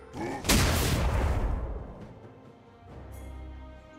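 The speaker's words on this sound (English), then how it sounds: "Red team's turret has been destroyed." A League of Legends turret explodes with a sudden loud, broad blast that rumbles and decays over about a second, followed by a lower rumble and a faint bright chime.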